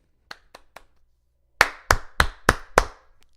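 Three light claps followed by five loud, sharp hand claps in a steady rhythm, close and ringing in a room.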